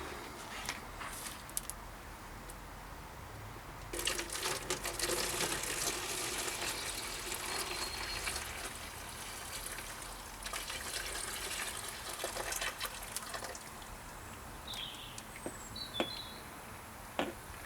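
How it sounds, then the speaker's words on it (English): Caustic soda solution poured from a container into a milk bottle, a steady liquid gush and trickle running for most of the stretch, fairly close, with no talking. "I'm going to pour this contents now straight into that milk bottle"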